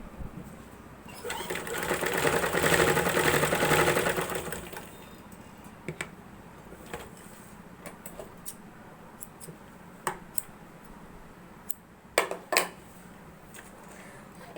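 A sewing machine runs a stitch through the centre of a frock lining in one steady whirring burst of about three seconds, followed by sparse clicks and handling taps.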